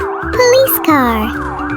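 A police car siren in a children's vehicle-sounds lesson, wailing loudly and continuously with rising and falling tones over a short stretch.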